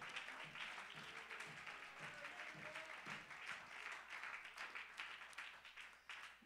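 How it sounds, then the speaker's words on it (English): A church congregation claps along during an evangelist's sermon, dense clapping that comes fairly faint and distant over a low hum, with a few voices and cheers mixed in. "Clap your hands and praise God."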